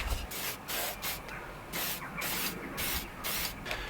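Clear lacquer sprayed from an aerosol can onto a Mk1 dashboard, a close hissing spray in repeated short bursts with brief gaps between them.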